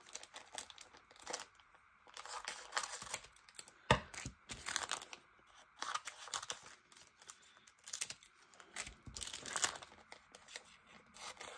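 Crinkling packaging being cut open with scissors for a birthday gift, giving irregular close snips, rustles and crunches in bursts across the whole stretch, with no talking.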